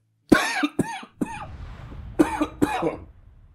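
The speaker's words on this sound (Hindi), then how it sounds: "खांसी की आवाज आती है" A person coughs in two clusters, a few harsh coughs, a pause with faint breathing, then several more close, loud coughs.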